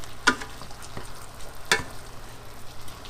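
Vegetables are tossed and stirred in a pan for eight jewelled fried rice. Two sharp, close utensil scrapes stand out over a soft, steady sizzle, with a fainter knock between them and no voices.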